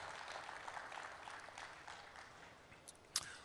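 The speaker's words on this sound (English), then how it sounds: "Let's give him a round of applause" A crowd applauding steadily, a dense wash of clapping at moderate volume that tapers slightly toward the end.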